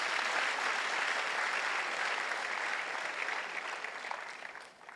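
A church congregation claps together, a dense, loud wash of applause that holds steady for several seconds and then tapers off.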